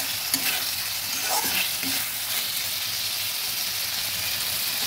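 Three green chillies fry with tomatoes in a hot pan, giving a loud, steady sizzle and crackle that runs the whole time, close up, with a few stirring scrapes and no voices.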